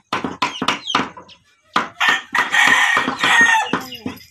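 A rooster crows loudly and close, with clucking fowl bursts before and a long drawn-out crow in the middle.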